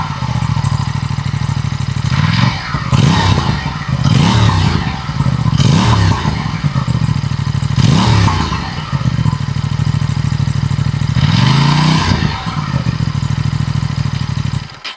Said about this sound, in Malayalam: അപ്പോൾ ഇങ്ങനെയാണ് RS457 എക്സോസ്റ്റ് നോട്ട് വരുന്നത്.